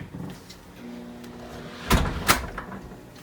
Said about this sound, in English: So let me close this door.